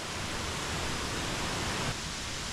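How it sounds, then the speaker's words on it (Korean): Water rushing down a mountain stream in the Yumyeongsan valley at Gapyeong, a steady broadband roar that runs unbroken and fairly loud throughout, with no voices. "아, 물소리가 울음차게 들리네요."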